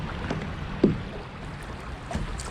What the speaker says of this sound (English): we're about to go through some more rapids